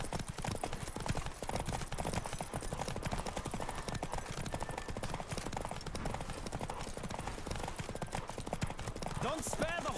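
Galloping horse hooves in The Witcher 3: Wild Hunt, a steady rapid clip-clop running loud and continuous throughout, with voices talking over it and a brief whinny near the end.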